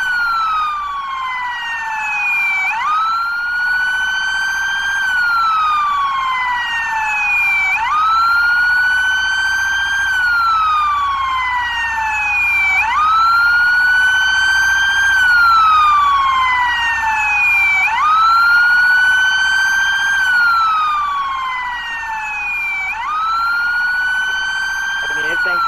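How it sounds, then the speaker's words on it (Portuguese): A police siren in the GTA MTA roleplay game wails in a steady, repeating rising-and-falling cycle, loud and close, across the whole stretch, with faint engine rumble beneath. "vai dar mesmo a sirene"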